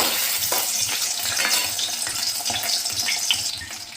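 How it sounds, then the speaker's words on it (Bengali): Pieces of rui fish fry in hot oil for a Bengali fish curry, a loud, close, continuous sizzle full of crackles and spatters as they are turned. "একইভাবে মাছটাকেও আমি উল্টে দিচ্ছি এবং ভাজা ভাজা হয়ে গেছে"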